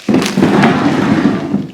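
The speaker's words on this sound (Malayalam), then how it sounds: "ഇതാണ് ഞങ്ങളുടെ സ്റ്റേപ്പിൾ ഗൺ." An electric staple gun fires into bar stool chair upholstery, giving a few sharp, loud close-up snaps in quick succession over a brief burst of workshop noise.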